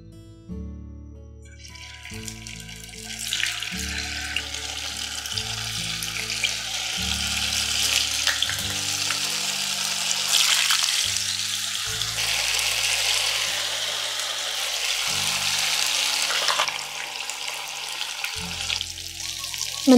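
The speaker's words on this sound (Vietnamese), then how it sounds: "Mình chiên cho tàu hũ vàng đều cắt mặt là được rồi nhé" Tofu frying in hot oil sizzles and crackles steadily throughout, a bright, busy frying sound with occasional soft clinks, no voices.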